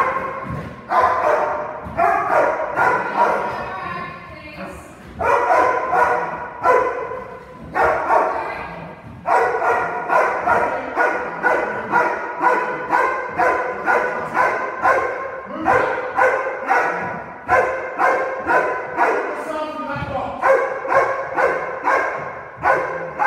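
A Belgian Malinois barks on command during protection handover training, delivering loud, close bursts of repeated barks in quick rhythmic volleys, with brief pauses and occasional whimpers, almost continuously.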